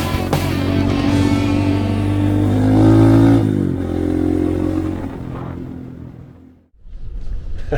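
A motorcycle engine runs loud and close, holding a steady rumbling idle before it swells in a rev and then fades away.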